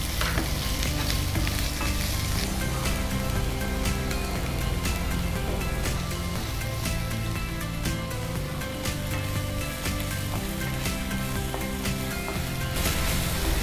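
Spring onion stems frying in a pan for a bhaji, a loud, dense, continuous sizzle with frequent sharp clicks and scrapes from stirring, with no talk.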